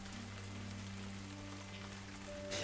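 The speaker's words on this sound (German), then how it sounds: "Regenfälle sorgen für Überflutungen." Rain falling in the video game Die Gilde 3, a soft steady patter over a low sustained tonal game ambience, with no speech, for a few seconds.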